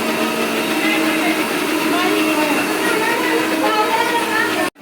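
A loud, steady electric motor whine of a mixer grinder grinding spices at full speed runs continuously for several seconds, then cuts off abruptly at the end.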